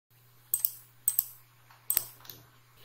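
Keys clatter on a computer keyboard while text is typed in CorelDraw, three short bursts of clicks spaced about half a second apart, close and fairly quiet over a steady low hum.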